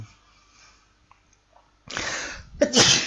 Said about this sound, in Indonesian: Aduh, bersin lagi.